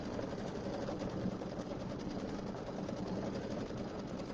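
A sewing machine stitches a quilt in a steady, fast, muffled patter, faint and continuous with no talking.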